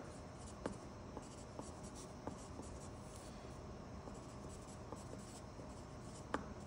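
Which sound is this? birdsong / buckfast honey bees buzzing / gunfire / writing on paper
writing on paper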